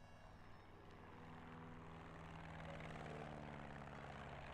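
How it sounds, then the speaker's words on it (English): A propeller airplane drones overhead, a steady broadband engine hum with a low harmonic buzz that swells slightly louder toward the end, heard alone without speech. "Let the plane go by,"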